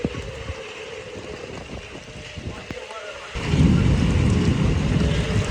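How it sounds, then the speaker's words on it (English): A sudden blast of severe thunderstorm wind, estimated near 80 mph, roars in midway through steady rain and rumbling, rising into a loud, sustained low-heavy gust that drowns the earlier backdrop. "That was literally an 80-mile-an-hour wind gust."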